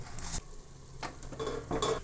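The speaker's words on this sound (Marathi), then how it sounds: "चला आपण टाकून घेऊया भाकर तव्यावर" Soft sizzling on a hot griddle, with a couple of brief scraping and patting sounds as sesame-coated bhakri flatbread dough is laid down, close and quiet, no voices.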